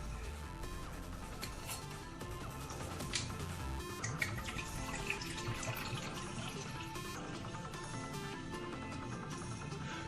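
Red wine vinegar pours in a steady, soft liquid stream into a Corningware bowl, with faint trickling and splashing throughout, close but quiet, and no voices.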